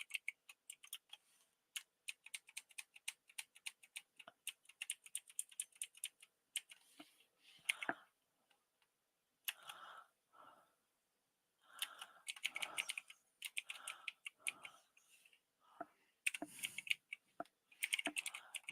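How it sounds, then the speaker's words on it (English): Bursts of rapid keyboard typing, crisp clicking keystrokes in quick runs separated by short pauses, close by with no talking. "So I'm just typing in"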